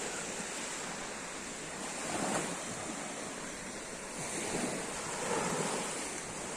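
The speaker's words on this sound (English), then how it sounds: "Let's go close to those waves, right?" Surf breaks along an open shoreline in a steady broadband wash, swelling louder in two rolling surges, with wind buffeting the microphone throughout and no voices.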